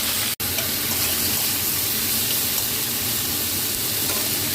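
Fried flat beans stir-fried with chopped tomato and five-spice seeds in hot oil, a steady dense sizzle close by after a brief sharp click, with no voices.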